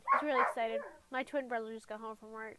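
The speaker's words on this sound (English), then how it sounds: "you can hear my dog in the background" An excited dog barks and whimpers in the background with yips and whines spread through the clip, mixed under a person talking close by.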